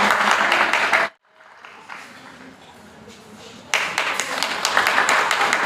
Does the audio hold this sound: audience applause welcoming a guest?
yes